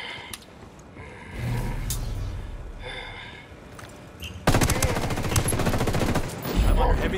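Gunfire crackles in Ghost Recon Wildlands during an airbase fight: scattered shots early, then a dense, loud burst of rapid fire through the second half, with radio-style voices in between.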